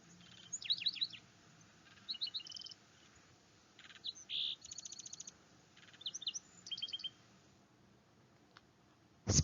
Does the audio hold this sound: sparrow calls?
yes